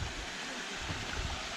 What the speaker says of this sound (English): you're gonna come across another creek. Little waterfall.